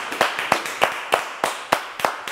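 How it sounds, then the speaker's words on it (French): An audience on a French TV show claps in a quick, even rhythm of about eight distinct claps, close and clear, with no voices. "On peut l'applaudir quand même."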